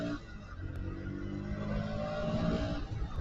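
Road traffic jam heard from a motorcycle: a nearby engine hums and revs steadily while surrounding vehicle noise rises and swells, fairly close and continuous.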